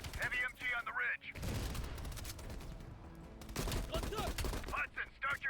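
Heavy machine gun fire in the Call of Duty Black Ops Cold War game, sustained rattling bursts with booming impacts at moderate distance, with voices speaking over the start and end.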